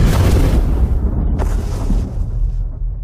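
A heavy booming blast from clashing bracelets with a rumbling low roar that fades over a few seconds, followed by a smaller burst and lingering rumble.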